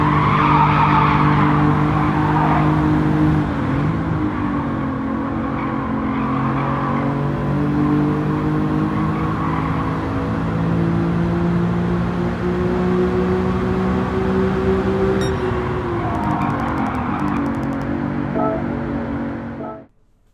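Race car in Gran Turismo 7 on a dirt circuit, engine roaring with sustained tire squeal and skidding through heavy braking into a corner, then pitch rising under full throttle, loud and continuous.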